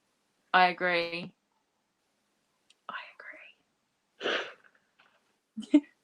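A sudden sneeze near the end, preceded by quiet whispered voices and soft breathy sounds with pauses of silence between them.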